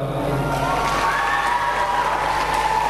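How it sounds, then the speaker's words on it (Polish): A crowd claps and cheers continuously, a dense wash of applause with whoops and shouting voices mixed in. "dla Pani duże brawa"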